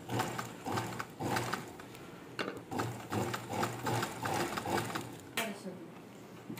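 A sewing machine stitches fabric in quick, rhythmic runs of close mechanical whirring, broken by brief pauses between bursts.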